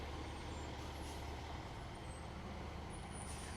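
A Ford truck rolls along in an outdoor fall fair parade, a faint, steady low engine rumble with broad background noise and no talking.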